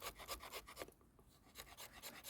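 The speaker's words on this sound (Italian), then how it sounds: "quindi si usa la sega, ragazzi, che invece ha il dorso a spigolo vivo" A Victorinox Ranger Grip folding saw blade cuts through wood in steady back-and-forth strokes, a close, rasping rhythm with a brief pause midway before the strokes resume.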